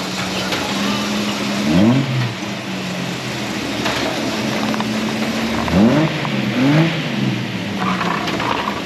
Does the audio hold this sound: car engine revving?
yes